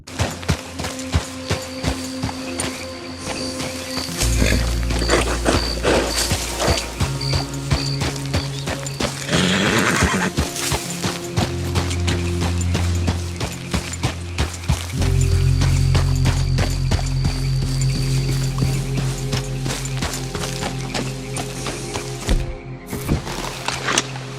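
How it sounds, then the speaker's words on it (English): A horse ridden along a shoreline in Red Dead Redemption 2, its hooves giving a steady run of light clip-clop beats under a continuous musical and ambient game bed. "We shall ride along the shores and see what we can find."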